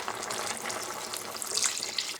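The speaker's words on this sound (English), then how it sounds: "So I'm going to add in just a little bit of water." Water is poured into a boiling pot of bacon, lettuce and tomato soup, a steady close hiss and splash with bubbling sizzle throughout the short pour.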